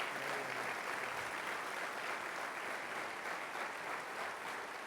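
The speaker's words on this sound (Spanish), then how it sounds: "Dale fuerte ese aplauso al Señor" Steady, dense applause from a church congregation, sustained and fairly loud throughout without letting up.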